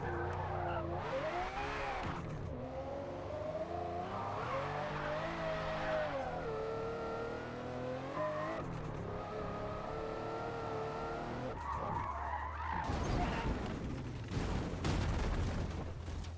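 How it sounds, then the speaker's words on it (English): Race car in Forza Motorsport braking hard from nearly 250, with an engine note that drops through several quick downshifts, engine braking and tire squeal, then accelerating away again, loud and continuous. "Full on the brakes with downshifts and engine braking."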